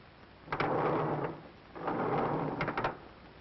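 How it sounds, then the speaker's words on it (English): A 1941 radio-drama sound effect of elevator doors: two long swooshing rumbles, each starting with a sharp clatter and ending in a cluster of knocks, with no voices. "the opening and closing of elevator doors"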